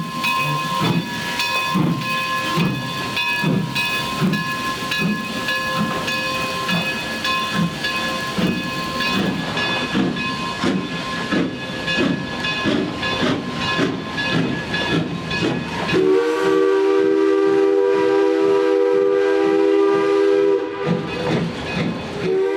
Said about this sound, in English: engineer Kylah gives 2 blasts of the whistle, eases the throttle open